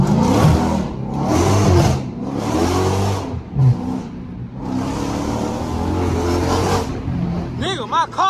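Dodge Scat Pack or Hellcat engine revs in loud, swelling bursts with brief lulls between, close and strong, while someone talks over it.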